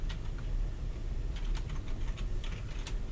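Rapid clicking of keys on a computer keyboard, steady and close, with a continuous low rumble underneath and no voices.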